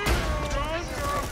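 Gunfire from a weapon in the Borderlands video game, set on the planet Pandora: a short dense burst of shots with a ringing tail, loud and close, over steady game background sound.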